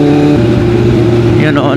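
A Yamaha R15 motorcycle engine passes on a road in Krabi, Thailand, heard loud and steady under the drone of the rider's own bike, with the pitch sliding as it goes by near the end.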